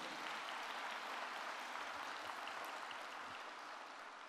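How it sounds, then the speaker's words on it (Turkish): Audience applause at a Turkish award ceremony, a dense, steady wash of clapping from a large crowd, sustained at an even level throughout without a break. "Ekrem Başkan'ın şahsında bu organizasyonu o günden bugüne getiren herkesi yürekten alkışlıyorum."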